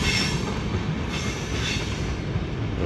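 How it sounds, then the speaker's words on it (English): A freight train rolls past nearby, a loud continuous rumble of railcars with wheel noise and occasional squeal, no voices. "train."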